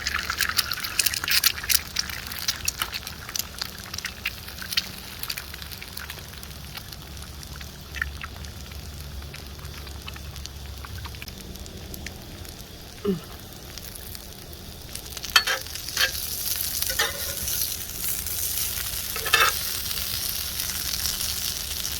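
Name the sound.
potatoes frying in a pan over an open fire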